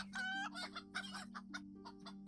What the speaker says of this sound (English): It seems to me I'm hearing like a lot more chicken noises than 2 chickens ought to be making